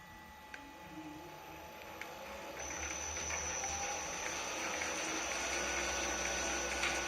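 School milling machine with its cutter spinning fast, a steady motor hum and high whine that rise partway through and hold, with faint clicks, fairly quiet and continuous.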